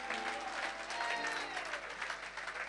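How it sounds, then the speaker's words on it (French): Applause rings out from a congregation during a church service, a dense, steady clapping that fills the space for a few seconds, with faint voices and music tones mixed underneath. "Acclame pour Dieu"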